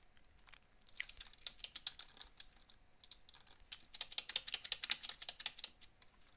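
A computer keyboard being typed on during a Minecraft game, with quiet, uneven bursts of clicks that speed up into a denser, louder flurry toward the end, and no speech.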